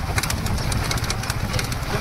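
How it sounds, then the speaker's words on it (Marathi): Birds call near the Bhuleshwar temple road outside Yavat, Pune, in short repeated chirps over a low engine-like drone, close and fairly loud. "पक्ष्यांचा आवाज आहे"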